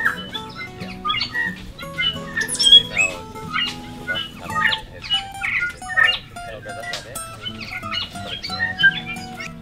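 Many birds calling and chirping at Tiritiri Matangi island reserve, a busy overlapping chorus of squawks and tweets throughout, with a voice talking over it.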